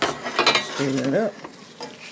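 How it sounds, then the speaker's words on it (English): Marry Me soup with chopped kale being stirred in a pot, with close scraping and clinking of a utensil against the pot, a short hum in the middle, and a brief faint voice. "Stir that up."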